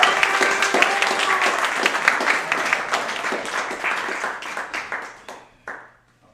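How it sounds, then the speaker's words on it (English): A live audience at an evening business event gives a crypto expert a round of applause, a burst of close, lively clapping that thins into scattered claps and stops just before the end. "Let's give a round of applause for our crypto expert"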